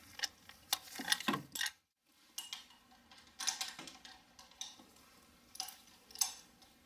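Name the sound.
ratchet removing valve cover bolt on Toyota Highlander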